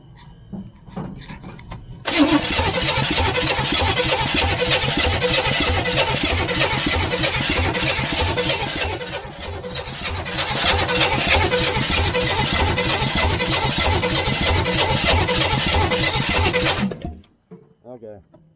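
A 1978 Chevrolet Nova V8 cranks briefly, then catches and runs loudly at a rough, steady idle for about fifteen seconds, dipping once midway before surging back, then cuts off abruptly; a voice is faintly heard at the start.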